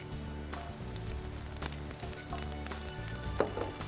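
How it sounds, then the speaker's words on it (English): Broccoli and sliced mushrooms sauté in olive oil in a home kitchen, giving a steady close sizzle with occasional stirring clatter and utensil knocks throughout. "We will now saute a few vegetables"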